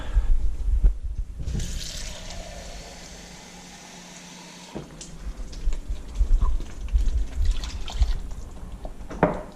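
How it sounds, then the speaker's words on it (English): Water poured into a pot of simmering deer venison sauce picante, a soft liquid splash and trickle that starts near the beginning and runs for several seconds, followed by faint kitchen clatter and bubbling. "I might put a little bit more water in there."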